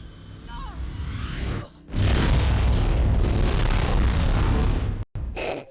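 An explosion in the video game Mirror's Edge lands as a sudden loud boom and a long rumbling roar that fill the sound after a brief dip, ending in a sharp cutoff and a short return of noise.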